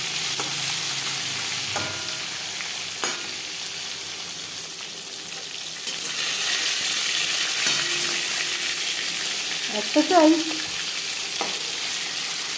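Pieces of katla fish fry in hot oil in a kadai, giving a steady, close crackling sizzle with occasional utensil taps. A voice speaks briefly near the end.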